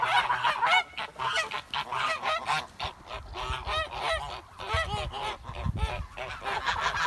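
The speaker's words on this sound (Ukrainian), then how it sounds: "Так, наш глинистий гонить гусей." A flock of Kholmogory geese honks loudly and continuously, many overlapping calls close by in a noisy, busy chorus.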